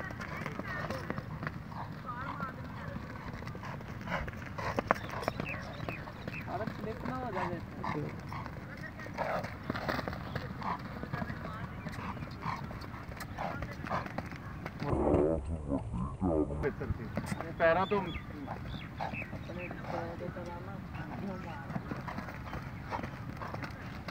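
A mare's hooves clip-clop steadily on hard ground, moderately close, under almost constant male conversation.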